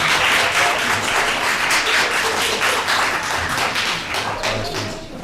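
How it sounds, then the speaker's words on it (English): Audience applause at a municipal land use board meeting, steady clapping from a room of people sustained throughout and tapering slightly at the end. "it's nice to get applause once in a while"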